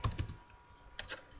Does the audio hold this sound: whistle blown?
no